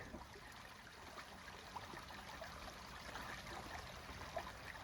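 Creek water trickling, a faint, steady gentle flow with soft bubbling detail throughout, heard outdoors without talk.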